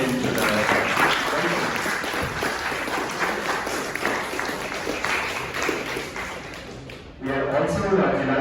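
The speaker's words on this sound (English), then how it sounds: "let us all give him a big round of applause" Sustained applause fills a lecture hall at a university ISRO expert lecture event, steady and fairly loud for about seven seconds. It dips briefly near the end, then voices rise over it.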